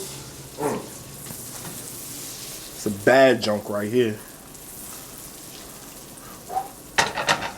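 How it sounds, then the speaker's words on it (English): Steady hissing sizzle of chicken frying in a hot pan runs throughout, close and even, while someone speaks briefly over it. "Oh yeah, hear that? Nice sizzle."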